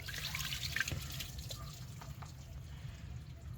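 Clean water runs and drips over car gas filter fittings as they are rinsed during a DIY filter replacement, a steady close trickle with scattered small splashes.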